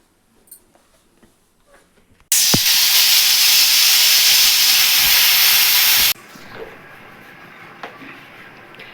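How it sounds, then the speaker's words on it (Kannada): A pressure cooker whistle on a stove, cooking chicken sambar, blasts out a loud, steady hiss of escaping steam for about four seconds, then cuts off abruptly to a quieter kitchen background. "ಆಮೇಲೆ ಕುಕ್ಕರ್ ಕೂಗಿದ್ಮೇಲೆ ಸಾಂಬಾರು ರೆಡಿ ಆಗೋದು."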